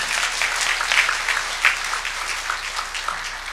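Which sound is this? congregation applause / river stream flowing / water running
congregation applause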